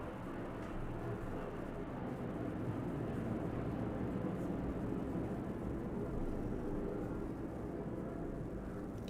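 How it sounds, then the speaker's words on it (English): An airplane passes overhead, a continuous low, distant roar that stays fairly even and faint throughout. "Sorry for the plane noise"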